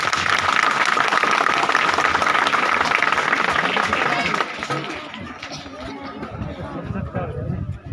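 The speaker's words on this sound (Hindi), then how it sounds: "सभी एक बार पूरा गांव गुरुजनों के नाम से ताली बजाएं।" A village crowd at a 26 January gathering claps for the teachers, a loud burst of dense applause that thins and fades after a few seconds into crowd murmur and scattered noise.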